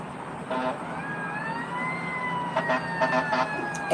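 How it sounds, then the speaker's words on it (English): A fire truck siren wails in a long rising and falling tone, moderately close, with a few short horn-like blasts and street noise around it. "As I said that, there comes the ambulance and the police, the sirens."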